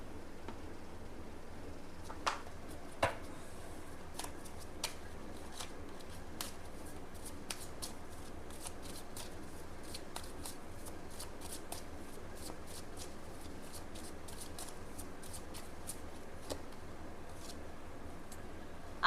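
Tarot cards being shuffled make quiet, crisp riffles and scattered sharp clicks in an irregular, continuous rhythm close by, with no voice heard.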